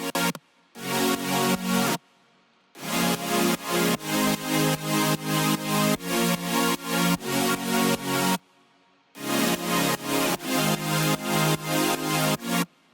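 Soloed supersaw synth from a future bass track, thick bright chords pulsing in rhythmic sidechained stabs across several bars, with brief silent breaks between phrases, loud and alone.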